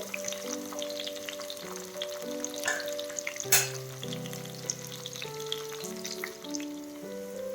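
Chopped onion frying in oil in a pan for a lentil sambar, a steady close sizzle and crackle with occasional stirring scrapes, under background music.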